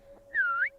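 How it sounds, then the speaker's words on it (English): A single high-pitched whistle in the Steins;Gate 0 video game, a clean rising tone lasting under half a second over a faint steady background hum. "I suddenly heard a high-pitched whistle."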